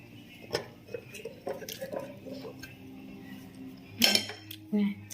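A knife cuts Thai sticky rice dessert, the banana-leaf-wrapped khao tom mat of Surin, on a plate, giving scattered soft clinks and scrapes with a louder clatter near the end, faint voices in the background.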